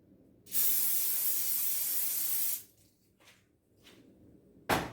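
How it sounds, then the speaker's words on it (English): A long, steady hiss of cooking oil spray onto a hot air fryer tray for about two seconds, followed by a few short faint spurts and a final sharp burst at the end. "Spray down the tray."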